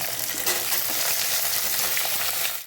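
Loud, continuous sizzling of potatoes and flat beans (shim) frying in hot oil, with faint stirring scrapes mixed in and no talking.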